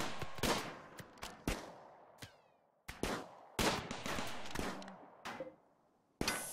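Turret fire against an attacker in the colony game RimWorld Alpha 13: a string of sharp, loud shot bursts at irregular spacing, each with a short decaying tail, over a busy background.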